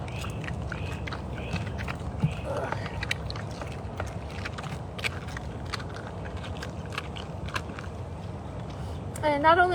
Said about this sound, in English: crunching on the bones